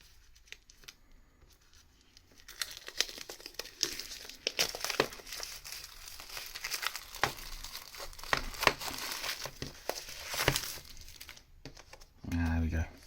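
Paper packaging crinkles and rustles in bursts while a collectible Detective Pikachu item is unboxed, close and fairly loud, with sharp crackles between quieter handling and a voice briefly at the end.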